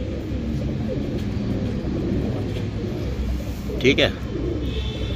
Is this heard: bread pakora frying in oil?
no